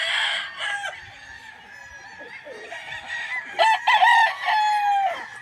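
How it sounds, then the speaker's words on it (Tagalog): A stag crows loudly while chickens cluck around it, several overlapping calls close by in a busy coop in Bacolod City. "Yan pa po yung mga manok nila sa kabila."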